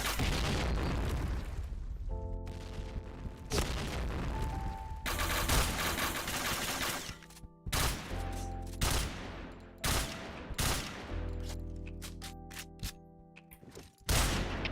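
Grenade blasts in a video game, several loud booming explosions with bursts of gunfire-like crackle spread across the stretch, some overlaid by sustained tonal game sounds.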